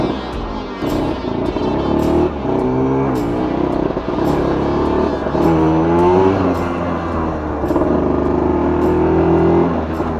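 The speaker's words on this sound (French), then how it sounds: "Ah, il démarre vraiment bien. Voilà. Allez, c'est parti." A 1963 KTM Ponny 2 moped engine running loud and close, a buzzing two-stroke drone that rises and falls in pitch as it revs and pulls away.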